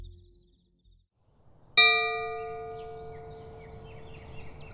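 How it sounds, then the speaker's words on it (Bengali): A sweet, unusual doorbell chime rings once after near silence in an eerie audio horror story, a single bright ringing strike with long sustained tones that slowly decay. "কলিং বেলের শব্দটা বেশ মিষ্টি, বেশ একটু অন্যরকম লাগলো"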